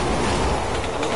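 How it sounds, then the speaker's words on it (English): A video game train rumbles past up close, a dense, loud continuous roar of rolling wheels and rail noise with no letup. "Train coming! Oh god! What do we do about the train?"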